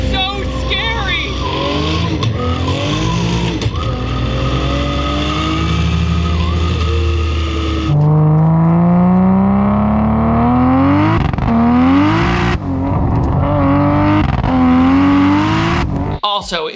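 A 900-horsepower car with 900 foot-pounds of torque on racing slicks, its engine loud and close as it accelerates hard, pitch rising through several gears with abrupt shift breaks.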